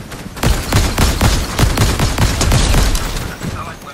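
Rapid bursts of video game gunfire crackle over about four seconds, shots clustered in quick repeated volleys, loud and close, with no other sounds over them.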